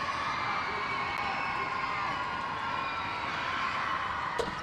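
Arena crowd noise at a college basketball game between Gonzaga and Portland: a continuous, fairly distant murmur of many voices with scattered shouts and cheers, one brief sharp sound near the end.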